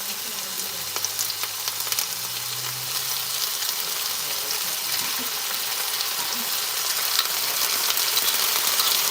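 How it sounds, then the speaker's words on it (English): Minced garlic sautéing in a pan, a steady broadband sizzle and crackle that holds close and even throughout, with faint low hum underneath. "I'm just going to saute that."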